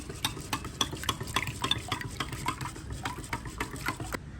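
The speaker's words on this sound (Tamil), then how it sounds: "முட்டையை ஒன்றா அடிச்சடிச்சு விடுவோம்" Six eggs being beaten together in a bowl for a cheesy kids' snack, with a fast, steady run of light clicking strokes close by for several seconds, with no talking.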